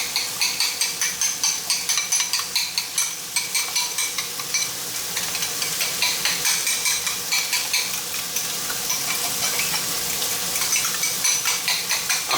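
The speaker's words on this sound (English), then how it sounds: "let's throw a little lemon pepper. Yeah, I'm fine with that. Mix it up, mix it up" Eggs and steak with lemon pepper stirred rapidly in a sizzling pan, giving a quick rhythmic scraping and clatter that settles into a steady frying hiss.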